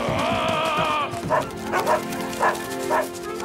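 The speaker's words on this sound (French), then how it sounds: "Oh non, pas les chiens!" Several sharp dog barks come in a quick, uneven series, preceded by a steady tonal hum and faint voices in the background.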